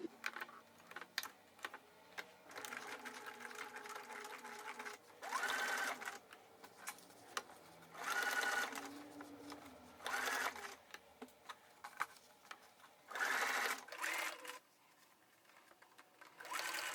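A sewing machine stitching the collar of a denim jacket, several short close whirring bursts separated by pauses filled with quiet clicks and fabric handling.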